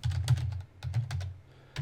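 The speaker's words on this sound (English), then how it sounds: "Sorry about the typing." Rapid typing on a computer keyboard, close and fairly loud, in quick bursts of clattering keystrokes with a brief pause in the middle.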